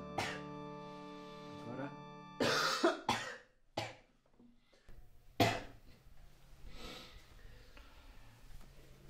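A heavy smoker's persistent cough, a few harsh bursts with throat clearing and sniffing, close and fairly loud over a low background hum.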